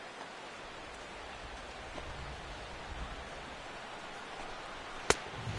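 Steady rain falling on a baseball field at game time in MLB The Show 16, an even broadband hiss running throughout, with one sharp crack near the end.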